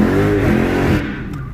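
Dodge Challenger Hellcat engine accelerating in sport mode, a loud, close harmonic roar that holds steady for about a second, then drops away as the throttle eases.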